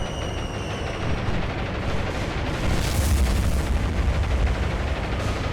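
Bombs bursting against warships in the naval combat game War on the Sea, a rolling series of deep, rumbling blasts that swell louder near the middle and keep thundering without pause, no voices over them.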